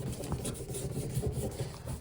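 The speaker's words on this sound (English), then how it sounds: "Grab my rag and just try to clean up the gunk that's underneath this" A rag rubs and wipes grime off the window trim of a Suzuki Jimny, giving a steady, close scuffing sound with small rhythmic strokes and no talking.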